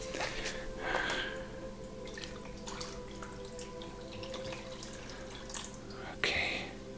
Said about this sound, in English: now I'm going to pour my fixer in here.